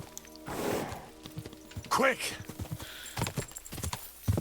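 A horse gallops in Kingdom Come: Deliverance II, its rhythmic hoofbeats coming in mostly during the second half, while someone speaks loudly over the start.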